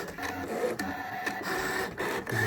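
Cutting machine makes a repeat pass in the same spot, giving off a steady whirring mechanical drone with short pulsing stops and starts, fairly quiet and heard alone.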